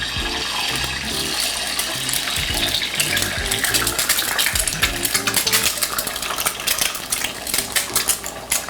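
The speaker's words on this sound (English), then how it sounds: "Place my eggs into the pan." Eggs frying in oil in a pan, a loud continuous crackle and sizzle with some clinks of utensils on the pan, close by and without talk.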